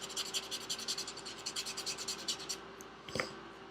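Nail buffer rubbed briskly back and forth over a fingernail during a nail wrap application, with rapid rhythmic scratchy strokes up close, ending with a small knock.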